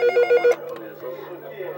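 A telephone rings in four quick electronic bursts at the start, close and clear, then stops as indoor room noise and faint voices follow.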